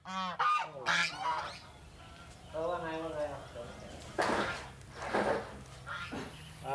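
Geese on a farm honk loudly and close by in repeated harsh bursts, some overlapping calls, with brief quieter gaps between the outbursts.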